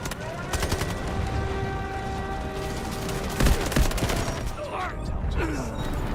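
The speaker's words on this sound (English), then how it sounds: "Roger that. Artillery barrage incoming." Artillery barrage in the Delta Force video game, a dense run of overlapping gunfire and booming impacts with a heavier burst midway, sustained and loud amid battle noise, with radio voices talking over it.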